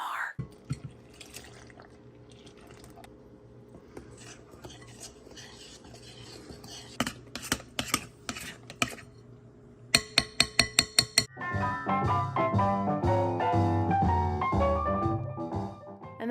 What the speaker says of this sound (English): Now enjoy some pudding ASMR.